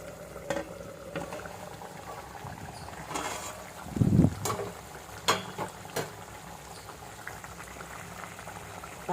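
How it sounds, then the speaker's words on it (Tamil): Karapodi fish gravy (meen kulambu) bubbles steadily in a covered pot, a continuous close simmering hiss with a louder burst of bubbling midway and a few sharp clicks. "இப்போது பாருங்கள் ஃப்ரெண்ட்ஸ், நல்லா கொதிக்குது."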